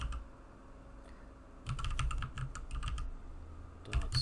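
Computer keyboard typing while entering commands to defend against a buffer overflow attack, close and clear, quiet at first, then bursts of rapid key clicks with brief pauses and a final flurry.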